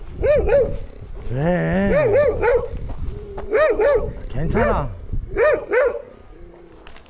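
A dog at a campsite barks repeatedly in short yelps and whines, close and loud, while a person speaks to it between the barks.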